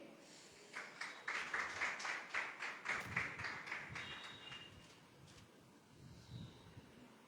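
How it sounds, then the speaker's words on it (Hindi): A church congregation at Sunday worship applauds to welcome a sister forward, a burst of rhythmic hand claps that rises, holds steady for a few seconds, then fades into quiet room noise. "ताली बजाते हुए उनका स्वागत करेंगे।"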